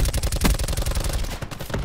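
VAPR-XKG rapid automatic gunfire in Black Ops 4, a dense, loud, unbroken burst of close shots firing in quick succession.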